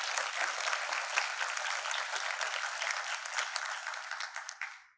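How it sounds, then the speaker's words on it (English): An audience at a televised political event for a US congressional race applauds the moderator, a dense, steady wash of many hands clapping at fairly close range that carries on without a break and then fades out at the end. "Can we give him a round of applause?"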